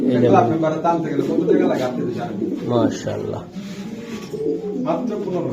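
Male racing pigeons coo at close range in a pigeon market, giving repeated throaty coos under and between loud nearby speech from several people.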